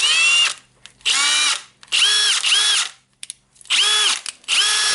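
A repaired Milwaukee M18 FIW2F12 compact cordless impact wrench runs in four or five loud bursts of roughly half a second to a second each, whining up and winding down, with short silent gaps between them.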